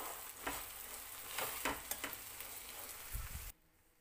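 A mushroom omelette fries in a pan after being flipped, a steady close sizzle with occasional crackles and scraping stirs that stops abruptly near the end.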